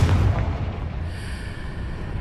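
A Confringo explosion spell from Hogwarts Legacy, one loud deep boom at the start that rolls into a fading rumble and hiss.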